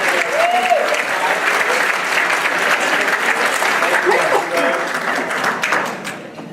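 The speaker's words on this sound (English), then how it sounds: "A round of applause for Dr. Rhodes." A conference audience at an Austin Community College employee keynote gives a sustained round of applause after a speaker, loud and even before tapering off at the end, with a voice briefly audible over it.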